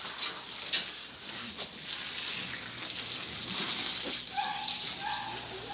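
Water is sprinkled over cats during a bath, a continuous close splashing and pattering hiss that holds steady throughout, with faint voices in the background.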